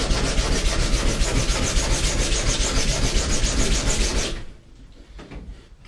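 Sandpaper block rubbing steadily along a 3D printed Buster Sword replica, a dense close scratchy sanding for about four seconds before stopping abruptly into near quiet.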